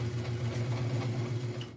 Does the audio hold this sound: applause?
no